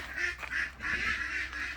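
Several ducks quack in a rapid, overlapping series close by, loud, nasal calls in short bursts with brief pauses between them.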